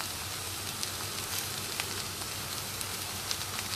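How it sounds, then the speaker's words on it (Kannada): Okra pieces fry in an oiled pan, crackling in a constant close hiss with small pops scattered through it and no voices. "ಅದಾಡಿಸ್ಕೊಂಡು ಬೇಯಿಸ್ಬೇಕು, ಫ್ರೈ ಮಾಡಬೇಕು."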